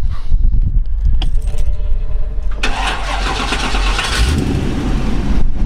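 A 1951 Mercury custom convertible with an LS1 engine cranks and catches, then settles into a loud, close idle with a deep steady rumble, keys jingling at the start.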